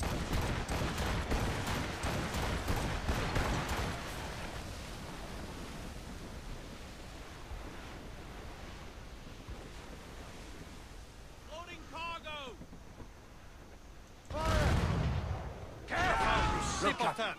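Ship cannons firing during a naval battle in Assassin's Creed Rogue, among ice in northern waters: wind and surf roar under voices, then a couple of heavy, loud booming volleys burst out near the end.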